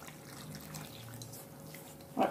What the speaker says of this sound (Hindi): अब इसमें डालें आप पानी